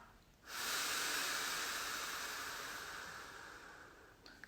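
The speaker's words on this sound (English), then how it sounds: "And then we breathe out." Slow exhalation into cupped hands, close and breathy, a soft rushing hiss that starts abruptly, stays even for several seconds and fades slightly at the end, alone without speech.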